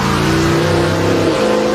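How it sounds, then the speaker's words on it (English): A 1931 Chevrolet fire engine, converted into a wheel stander balanced on its tailgate, revs loudly and close at a track show, its engine note roaring steadily and then shifting pitch. "putting the wheel stander on its tailgate, the 1931 Chevrolet fire engine performs in a way for which it was"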